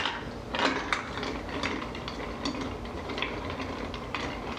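A bar spoon stirs ice in a cocktail mixing glass holding sweet vermouth, Licor 43 and Maker's Mark whiskey, a steady faint rattling swirl of cubes against glass throughout.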